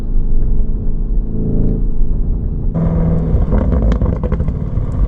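A 640-horsepower Lamborghini Urus SUV accelerates with a loud, steady engine and exhaust rumble heard from inside, swelling noticeably louder partway through.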